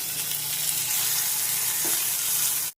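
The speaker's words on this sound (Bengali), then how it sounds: "এই পেঁয়াজটা ভাজা ভাজা করছি" Onion and tomato frying in a pan, a loud, dense, continuous sizzle heard close up with no talking, cutting off sharply at the end.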